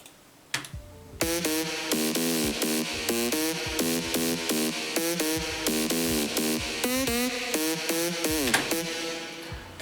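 A synth melody programmed in music production software plays a steady rhythmic pattern of short repeated notes, loud and close, with small variations and no voices.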